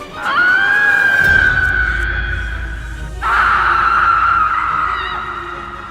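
A woman screams in two long sustained cries, the first swelling and then fading, a brief break, then a second loud cry trailing off near the end, heard alone without talk.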